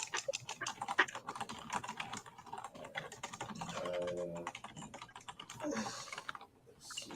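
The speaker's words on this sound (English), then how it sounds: "That one's beating the keyboard hard." Rapid, forceful clatter of keys hammered on a computer keyboard, dense and continuous at close range, with a brief tonal buzz partway through and no voices.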